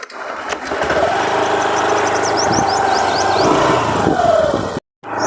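A small Honda Activa scooter engine runs steadily with a buzzing drone, briefly cutting out near the end; birds chirp faintly in the background.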